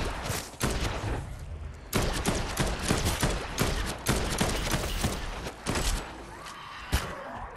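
Rapid, heavy gunfire from Dead Island 2 fills the scene with dense bursts of loud, close shots repeating almost continuously, punctuated by brief gaps and a few harder impacts.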